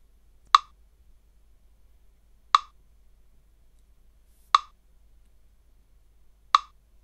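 Four sharp, identical metronome app clicks at 30 bpm, spaced evenly about two seconds apart, a very slow steady beat with silence between each tick.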